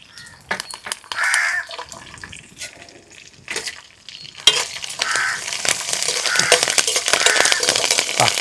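Curry leaves, green chillies and cashews frying in hot oil, with sharp crackling and spattering bursts that give way to a loud, steady sizzle with stirring, close up, while crows caw faintly in the background.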